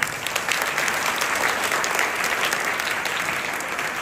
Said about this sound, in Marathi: सर त्यांसाठी जोरदार पहिल्यांदा टाळ्या होऊन जाऊ द्या.